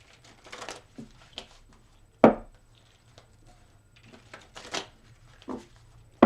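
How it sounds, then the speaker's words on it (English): Tarot cards shuffled in several separate bouts of papery riffling bursts, with sharp slaps and quieter pauses between, close to the listener. "So I'm going to give them 3 more shuffles."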